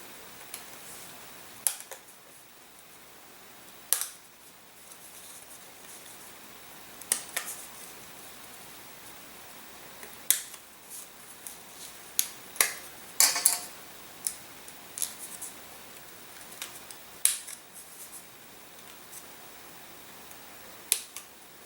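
Swoopy plywood parts from a Red Shift II model kit being cut out, heard as sparse sharp clicks and snaps scattered over a quiet background, with no talk.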